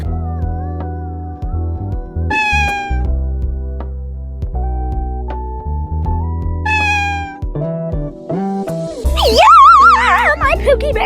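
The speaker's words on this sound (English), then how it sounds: "Yeah, my Pookie Bear cat" Cartoonish cat meows from the Toca Life World mobile game, set in a summer storm scene, repeat several times over an ongoing musical game soundtrack, bright and close, with a warbling burst near the end.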